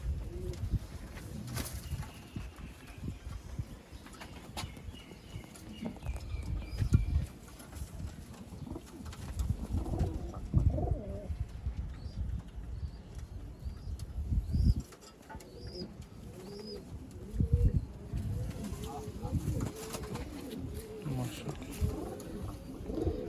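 Pigeons at a Sialkot pigeon market coo softly in low, throaty bursts with occasional wing flaps, while people talk nearby over the birds.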